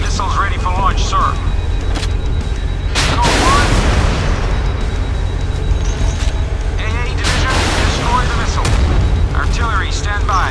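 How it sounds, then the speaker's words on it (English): A warship launches missiles in the naval combat game Modern Warships, with a steady roar of engine and sea noise, sharp launch whooshes and booms around the middle and later, and radio-style voice callouts and alert tones over the top. "Stand by, rocket launch. Missiles ready for launch, sir."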